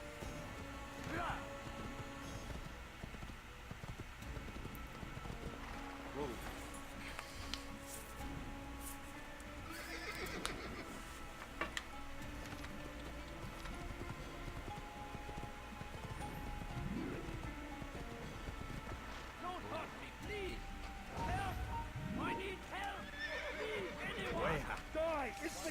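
A horse in the Assassin's Creed video game gallops through crowds in Damascus with steady clip-clop hooves and a loud whinny, set against a busy background murmur while someone talks over the gameplay.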